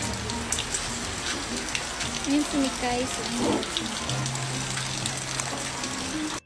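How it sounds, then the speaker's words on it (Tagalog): Heavy rain pours down steadily and loudly on surfaces nearby, a constant wash with drips, while a voice speaks briefly over it and a low hum enters midway. "sobrang lakas ng ulan."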